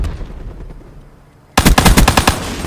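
Video game shotgun fire bursts out loud and sudden after a quieter stretch, a rapid run of close, sharp blasts with no talking.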